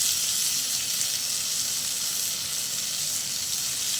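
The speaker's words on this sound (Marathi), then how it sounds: "परतून घेऊया थोडंसं मीठ घालूया म्हणजे कांदा छान परतून होईल" Chopped onion, tomato and curry leaves sauté in a hot pan with a steady, even sizzling hiss that holds at a constant level throughout, with no voices.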